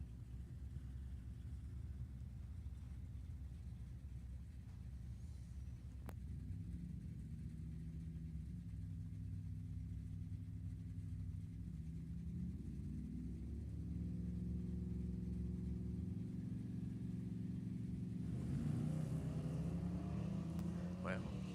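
Drag racing cars at Sacramento Raceway during a Summit ET bracket series, engines rumbling in a steady low drone with a louder surge of passing power near the end, a commentator talking over it.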